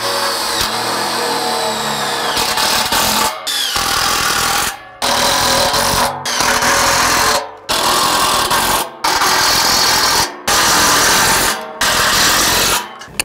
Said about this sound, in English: So we're just gonna take some of our self-tapping framing screws and get these in.